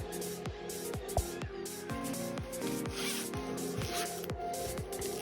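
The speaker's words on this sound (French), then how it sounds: "je vérifie déjà que j'ai pas de problème ici, que ma fermeture s'ouvre bien" A zip on a lined fabric pouch being worked open and shut in quick, rhythmic strokes, about a dozen crisp rasps close up and clear with no talking.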